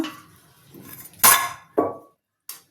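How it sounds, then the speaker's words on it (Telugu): Fried capsicum and onion being added to a paneer curry pan, heard as a few sharp metallic clinks and knocks of a utensil against the pan, with short pauses between them and quiet in between. "ఫ్రై చేసి పెట్టుకున్న క్యాప్సికమ్ అను ఉల్లిపాయ కూడా వేసేద్దాం"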